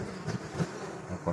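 Bees buzz at a hive, a low, faint, wavering hum that swells in a few brief close bursts as insects pass near.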